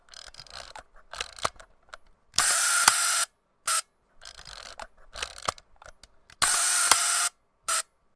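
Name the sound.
Contax D camera shutter firing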